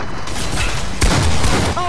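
Dense burst of video-game gunfire, loud and continuous with a sharp blast near the middle, filling the whole moment with no voice heard over it.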